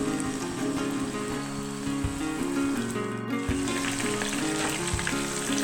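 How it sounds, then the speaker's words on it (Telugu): Battered chicken pieces deep frying in hot oil, a dense, steady crackling sizzle like rain on a surface, with light music underneath and no talk. "చూసారు కదా, మొత్తం ఇలా డీప్ ఫ్రై అయిపోవాలి."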